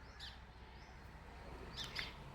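A sparrow chirping outdoors, giving a few short, faint tweets near the start and a brighter cluster of chirps toward the end over low background hum.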